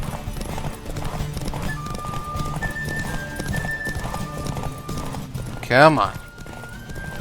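Horse clip-clop hoofbeats pound steadily in The Witcher 3, a loud neigh bursting out near the end over game music, while a voice talks over the gallop.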